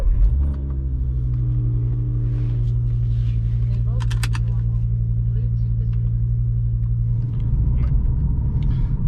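An Audi RS3 8P with a Milltek exhaust fires up, then holds a deep, steady idle rumble, close and even, with a few faint clicks over it.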